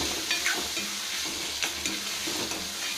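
Tomatoes and onions sautéing in oil with rock salt, a continuous close sizzle broken by repeated stirring scrapes and light spoon taps against the pan; no talking.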